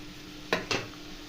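Boiled vegetables being stirred in a pan for a vegetable dish, two quick scraping strokes close up against a faint background hum.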